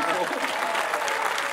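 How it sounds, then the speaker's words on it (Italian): A short burst of audience applause at a football club's official squad presentation, dense and even clapping from a crowd, lasting under two seconds. "quindi un applauso"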